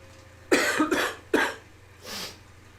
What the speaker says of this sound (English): Nice cough for dramatic effect.